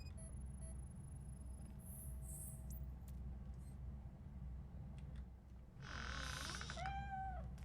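A cat meows in the RoboCop: Rogue City video game, giving a couple of clear, rising then falling cries near the end over a steady low in-game ambient hum.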